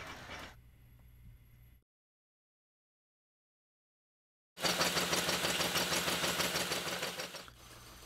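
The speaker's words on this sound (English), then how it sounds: "So now we can go back to the lathe and we'll actually remove the excess from the" A lathe turns a wooden hub for an 18th-century French cannon wheel; after a quiet machine hum and a dead pause, a loud whirring cutting run lasts about three seconds before easing back to a low hum.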